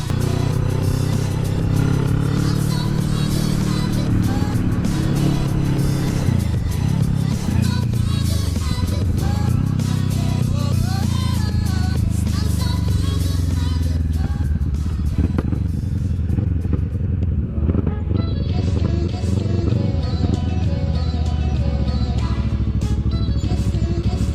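A Kawasaki NK650 650cc motorcycle cruises steadily at moderate speed, its engine a constant loud drone under heavy wind buffeting and road rumble throughout, recorded close on the bike.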